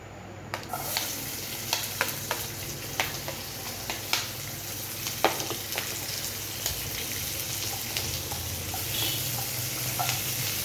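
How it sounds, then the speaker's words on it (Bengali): Onion and chilli sizzle steadily in a hot pan after chicken is lifted out, with a constant frying hiss and scattered sharp crackles and stirring clicks throughout, close and moderately loud. "এবার এর মধ্যে আমি দেব পেঁয়াজ আর লঙ্কা কুচি।"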